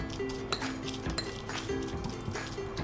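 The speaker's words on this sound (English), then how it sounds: "Let's put the tuna in another bowl. And mix it well until it's kind of fluffy." Canned tuna being mixed in a bowl with a utensil, giving quiet, repeated clinks and scrapes against the dish at an irregular, steady stirring pace, close and fairly soft.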